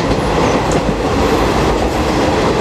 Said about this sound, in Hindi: तो लोकल ट्रेन दिख रही है वो है वेस्टर्न लाइन